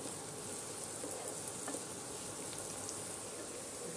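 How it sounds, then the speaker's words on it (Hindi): Chopped onion and green chili frying in a pan for egg keema, giving a faint, even, continuous sizzle throughout with tiny crackles and no speech. "प्याज को हमें सॉफ्ट होने तक ही पकाना है"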